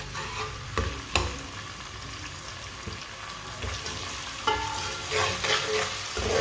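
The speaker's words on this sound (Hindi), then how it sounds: "आधा चम्मच कुटा हुआ अदरक, अदरक को भी 1 मिनट के लिए पका लेंगे।" Crushed ginger fries in a pan of hot oil for aloo palak, a steady close sizzle broken by occasional utensil knocks and stirring scrapes, with a faint watery sound partway through.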